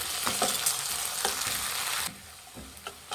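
Ginger garlic paste frying in a pan for mutton liver pepper fry, giving a close, steady sizzle with light stirring taps that drops quieter partway through, with no voices.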